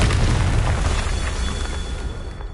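A Confringo fire spell explodes in the video game Hogwarts Legacy with a loud, deep boom followed by a broad, rumbling roar that slowly tapers off.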